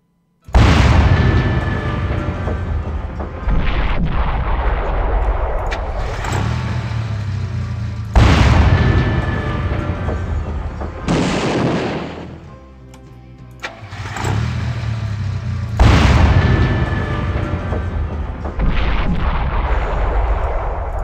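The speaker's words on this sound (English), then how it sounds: "maybe I can get him with the bombard." Heavy bombard artillery in Warhammer 40k Final Liberation fires repeatedly, several loud booming blasts, each with a long rumbling tail, a short quiet gap partway through, and no voices.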